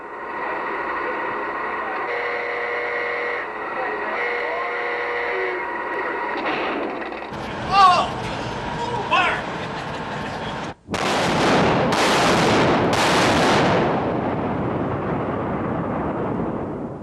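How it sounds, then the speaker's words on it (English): 16-inch battleship guns fire in a series of loud, booming blasts that roll into long rumbling echoes, following a stretch of quieter mechanical hum and clanks from the gun's loading machinery. "The rammer is withdrawn, the breech closed, the gun is ready to fire."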